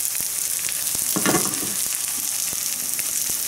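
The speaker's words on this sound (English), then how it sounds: "I'm frying it in butter" Plant-based chicken frying in butter in a pan, a steady close sizzle with a brief louder crackling burst partway through and faint clinks of stirring.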